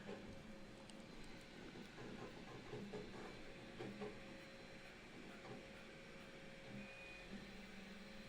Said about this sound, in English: I'm getting distracted by the 3D printer. It's making noise.